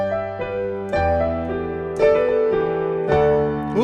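Piano riff opening the second verse of a song: a run of ringing chords struck in clear sequence, each new attack sustaining into the next, close and alone with no voices.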